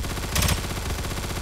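A P90 submachine gun fires in the video game Aimblox: one short, rapid burst of shots heard at moderate volume over a steady game background.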